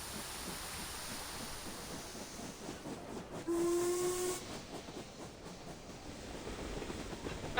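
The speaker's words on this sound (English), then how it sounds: "with a sharp whistle, the train surged forward, chugging with a growing speed." A steam locomotive in the video game Reverse: 1999 lets out a sharp whistle blast over a background hiss of steam as the train starts to move, the whistle rising briefly above the steady rushing noise.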